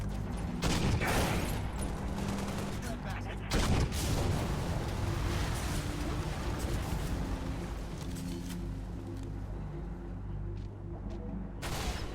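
Needle rifle fired in the Halo Reach campaign: a few sharp shots early on, then sparse, fainter pops over a steady rumbling game soundscape.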